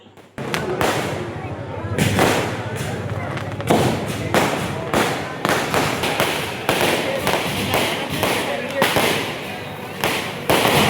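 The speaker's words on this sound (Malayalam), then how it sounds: "അപ്പം ഇത് പടക്കം പൊട്ടിക്കലിലാണ് കാണിക്കുന്നത്" Firecrackers burst in rapid, irregular succession at a church feast, sharp loud cracks and pops following one another with a crowd's murmur beneath.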